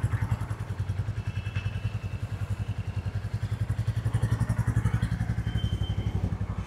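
A Royal Enfield Standard 350 motorcycle engine idles with a steady, rapid thumping beat, loud and close, a low chugging pulse that runs unbroken throughout.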